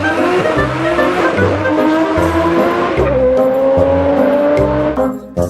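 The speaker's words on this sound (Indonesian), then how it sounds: "Yang ini ada mobil balap." A toy race car gives off electronic engine revving and tire-screech effects, loud and close, with stepped pitch changes and a brief dip near the end.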